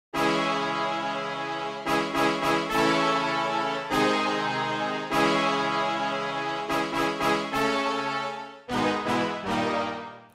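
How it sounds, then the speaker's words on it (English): Big Brass patch from The Arsnal Kontakt sample library: bright, open sustained brass chords with sharp rhythmic stabs in between, loud and full throughout with no talking. "This is a brass called Big Brass."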